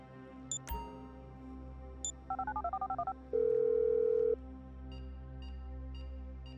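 Touch-tone dialing inside Grand Theft Auto V: a few sharp beeps, a rapid run of about a dozen dial tones, then a steady one-second tone followed by faint repeating electronic chirps, all close and clean with no talk.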